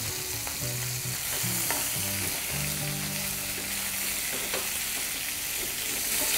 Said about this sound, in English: Now the next step is to put our shrimp with our garlic.